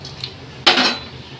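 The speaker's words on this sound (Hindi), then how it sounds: "और अभी इस वक्त लहसुन जा रहा है" Garlic hits a hot pan of fried coriander, chili and cumin while brinjal kalonji is being made, giving a sudden close sizzling burst that settles into a steady fry after a faint utensil clink.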